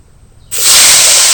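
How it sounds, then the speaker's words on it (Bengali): After a brief quiet moment, chopped tomatoes hit hot oil with bay leaf, dried red chilli and whole cumin, bursting into a loud, sudden hiss that holds steady as a close, continuous sizzle. "এবার দিয়ে দেবো টমেটো কুচো।"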